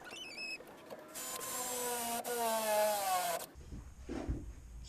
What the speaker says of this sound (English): And then I'll drill it out.